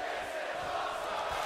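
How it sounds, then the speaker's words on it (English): Roaring arena crowd at a WWE 2K22 wrestling match between Nakamura and Dijakovic, a steady loud wash of cheering that holds for the whole moment without letup. "The sound of this crowd is deafening"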